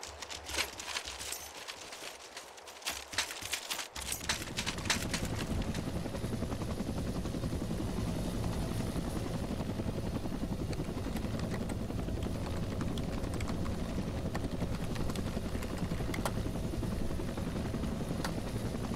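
An AH-1W Cobra attack helicopter in a video game spools up, with clicks and rattles giving way to a loud, steady rotor thrum that holds close and constant, and no voices.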